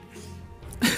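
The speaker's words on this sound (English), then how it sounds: "You literally just saw me sneezing out." A single sharp sneeze from a Dota 2 tournament commentator bursts out near the end of a short, quiet moment.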